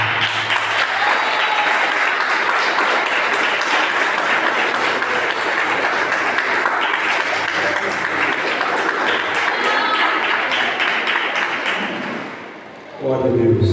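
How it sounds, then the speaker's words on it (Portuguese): A women's church service congregation gives a long, loud round of applause for Jesus, sustained dense clapping that continues evenly for over ten seconds before fading out near the end. "quero pedir que você dê uma salva de palmas para Jesus"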